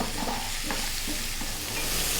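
Chopped vegetables for a Greek vegan stew frying gently in a pan, a steady soft sizzle with occasional stirring scrapes, close and continuous with no voices.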